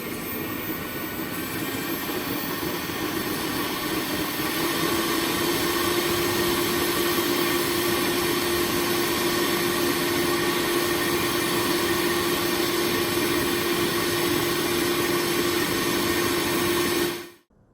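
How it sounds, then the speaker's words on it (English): A homemade mini motorjet engine, built without power tools, runs outdoors at night with a steady loud roar and a sustained tonal whine that holds for about seventeen seconds, then cuts off abruptly into quiet. "I've just finished firing the jet engine at night"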